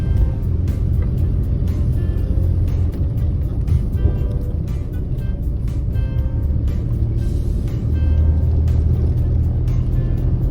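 A car climbing a steep mountain road in second gear in Uttarakhand, with a loud, steady engine drone and low road rumble filling the cabin, unbroken and close throughout.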